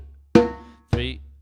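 Two quick timbale strikes from the asanshu rhythm, a bright slap followed by a ringing tone, close and clear with a short decay after each hit.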